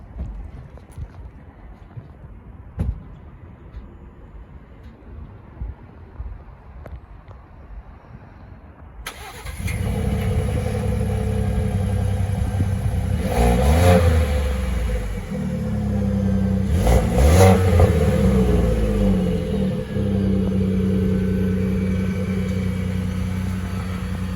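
A 2023 Ford F-150 Platinum's 3.5-liter V6 turbo engine cold-starts after several seconds of near quiet, then settles into a steady idle with two strong revs rising and falling, close by.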